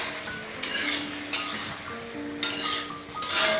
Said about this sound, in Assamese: এতিয়া মই এইখিনি ভালদৰে লৰাই দিম মিক্স হোৱাকৈ